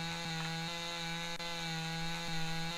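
A chainsaw cuts wood in the Lumberjack's Dynasty video game, with a steady loud droning engine and a strong buzzing tone that dips briefly several times as the cut bumps.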